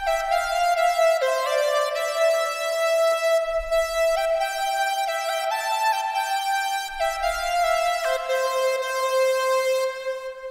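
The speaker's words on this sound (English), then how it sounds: "just some random melody that I played and improvised on top of the chords" An improvised synth lead melody in FL Studio rides over sustained chords, a bright, loud, harmonically rich tone holding long notes with occasional changes, with faint low thumps now and then underneath.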